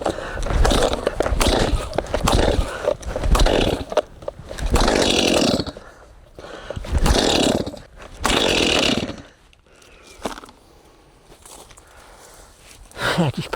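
A chainsaw in a forest woodlot is pulled and started repeatedly, loud bursts of engine roar that sputter and die between attempts, with a man muttering nearby.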